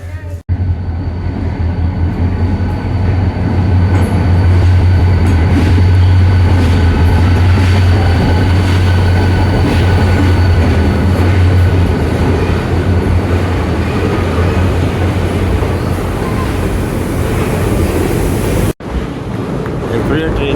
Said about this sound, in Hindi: ट्रेन जा रही है और इसका अलग ही वाइब है